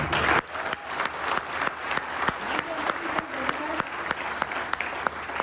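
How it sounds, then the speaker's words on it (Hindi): Audience applause at a Vestige network-marketing meeting, with crisp individual claps standing out in a fairly regular beat over a steady crowd wash, sustained at moderate loudness throughout. "उनके लिए जितना भी ताली बजाए फिर भी कम"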